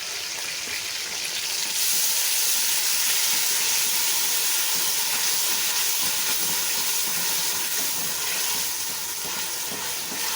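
Ginger garlic and green chili paste frying in oil for beef paya, a loud steady hissing sizzle that runs unbroken throughout, close by with no speech.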